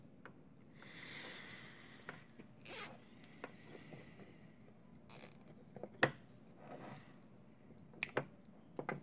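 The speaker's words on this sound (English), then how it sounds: "Then we'll replace the going to replace the zip tie on the wires." A zip tie is ratcheted tight around the wiring of a Hyrel MK1-450 3D printer, giving short clicky zipping bursts and sharp ticks spaced irregularly, close up in a quiet room.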